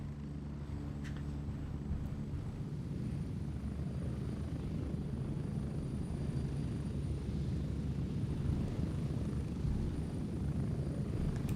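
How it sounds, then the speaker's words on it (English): Helicopter in the video game Gray Zone Warfare, a continuous rotor thump and engine drone holding steady and fairly close throughout, with no one talking over it. "Oh, this is your heli."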